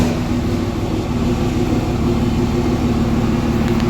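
A diesel truck engine with no grid heater runs loud and close on a chilly day, a steady low rumble with a constant droning hum and no clear start-up surge.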